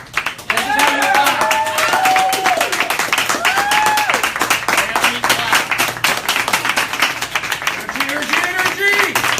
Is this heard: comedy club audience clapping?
yes